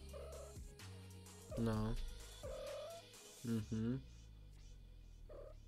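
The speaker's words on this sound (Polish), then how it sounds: "Zostaw tego kota, proszę cię." A house cat meows a few times, drawn-out and fairly close, between snatches of a voice over a steady low computer hum indoors.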